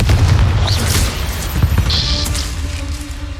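A Confringo blasting spell goes off in Hogwarts Legacy, giving one heavy booming burst up front that rumbles and fades into softer crackling tail sounds.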